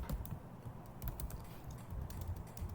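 Someone types an email address and password on a computer keyboard, producing quiet, continuous clicking keystrokes close to the microphone with no talking.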